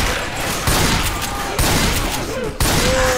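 Shotguns fire in Left 4 Dead 2, loud heavy blasts about once a second over continuous game noise and chaotic action.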